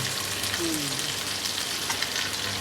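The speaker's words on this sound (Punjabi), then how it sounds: "ਆਲੂ ਥੋੜੇ ਜਿਹਾ ਕਾੜ ਲੈ ਹੁੰਦੇ ਨੇ" Potatoes frying in a pan with a steady, close, continuous sizzle that fills the clip, with faint stirring over it and no talk.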